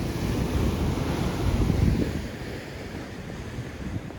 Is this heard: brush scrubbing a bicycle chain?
no